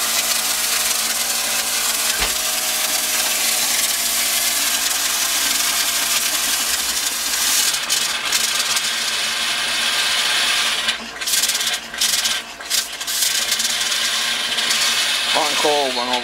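Air compressor running at about 60 psi to blow water out of a house's plumbing lines while winterizing a boiler with baseboard heat, a steady loud broadband rush filling the whole stretch with brief dips near the end.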